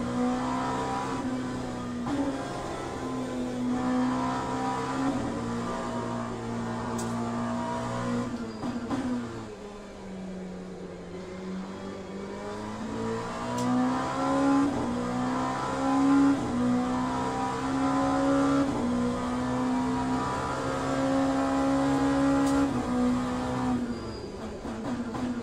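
A race car engine in the video game Le Mans Ultimate drones steadily at high revs, dipping briefly as it slows through a corner and then climbing again, loud and continuous with no talk.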